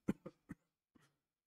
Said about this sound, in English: very old, dry cough